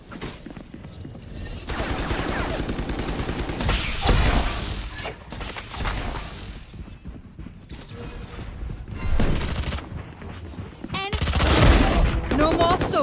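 Killjoy's swarm grenade in the Valorant video game, a burst of crackling, hissing mechanical pops and shattering hits amid heavy gunfire, with game voice lines over it.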